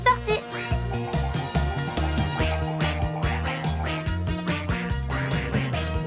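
Cartoon duck quacking in a French children's animation, rapid repeated nasal quacks over a bouncy, busy musical score that plays continuously beneath them.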